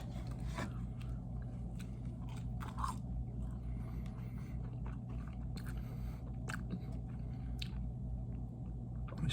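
Crinkle cut fries are chewed at Universal Studios in Orlando, with close, steady crunching and moist mouth sounds over a constant low background hum.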